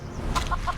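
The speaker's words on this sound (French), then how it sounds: "Un poulet qui s'enfuit." A chicken clucks in a video game after a tiger is turned into one, several short close clucks in quick succession with no talk.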